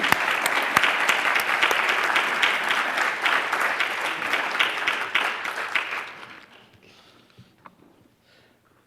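An audience at a public talk claps warmly to welcome speaker Michael Kimmelman, dense steady applause for about six seconds that then thins and fades to scattered claps and quiet.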